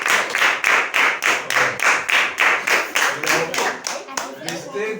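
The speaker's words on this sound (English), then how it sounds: "a round of applause for children" Audience clapping for children in a classroom setting, a steady rhythmic round of applause with regular hand claps that loosens and thins toward the end, close and fairly loud.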